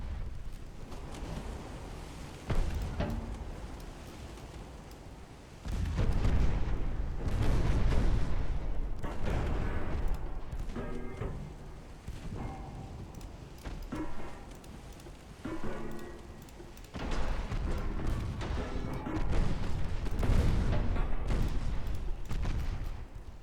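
Naval gunfire from cruisers in a 1920s Italian naval campaign strategy game, heavy booming salvos rumbling in repeated bursts with a sustained loud roar and rolling low-end between volleys.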